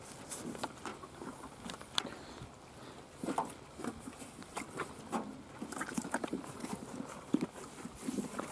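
Ponies walking near the listener at a Mongolian-village petting farm in Asahikawa, hooves tapping and clip-clopping in irregular soft bursts over a low outdoor background, with no voices.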